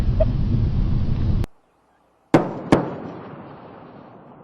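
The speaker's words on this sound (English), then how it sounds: "twin sonic booms heralding Atlantis' arrival at the Florida spaceport." Space Shuttle Atlantis's twin sonic booms on arrival in Florida: two sharp, loud booms in quick succession after a sudden silence, each followed by a rumbling decay; a broad roaring noise fills the first part.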